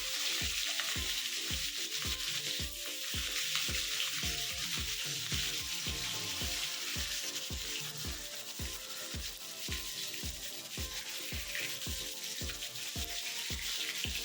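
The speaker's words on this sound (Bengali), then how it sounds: "আমি এখন তেলের মধ্যে মাছগুলো দিয়ে এবার সুন্দর করে ভেজে নিচ্ছি" Fish frying in hot oil, a fish curry in preparation, gives a steady, close sizzle with a soft hissing crackle that runs without a break, mixed with faint rhythmic stirring or tapping thuds.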